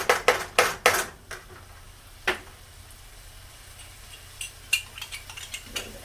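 Green onion being mixed into a pan for Korean-style loco moco, a quick run of sharp utensil clacks and scrapes against the pan at first, then scattered lighter taps over a faint sizzle, no talking.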